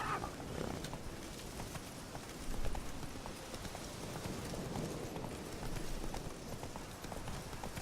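Steady clip-clop of Roach, Geralt's horse in Witcher 3, galloping through trees, a continuous rhythmic drum of hoofbeats with one brief louder swell, moderately quiet and heard alone.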